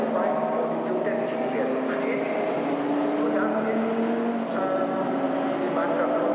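GT4 race cars on Hankook tyres weave behind the safety car at the Nürburgring during a European Series race, their engines a steady, continuous drone throughout, with a commentator talking over the noise.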